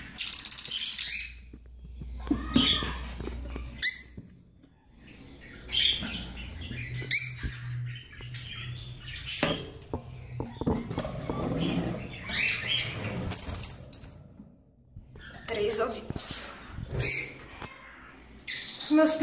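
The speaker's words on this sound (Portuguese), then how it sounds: "Meus periquitos australianos, o macho mestiço e a fêmea." Budgerigars, a mixed-breed male and a female, in their nest with three eggs, giving scattered close chirps and squeaky twitters among rustling and tapping over a quiet background.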